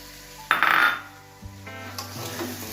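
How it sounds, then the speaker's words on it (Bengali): Chopped boiled egg is turned gently in a pan with peas, giving one brief burst of metal clatter and scraping, then a quiet stretch with a low steady hum. "আলতো হাতে নাড়ছি"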